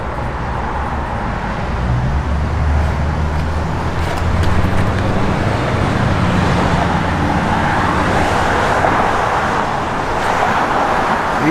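A 1967 Chevrolet Corvette Roadster with a stock aluminum intake drives down the road, its engine a steady low rumble with road and tire noise that swells slightly as it passes and holds throughout.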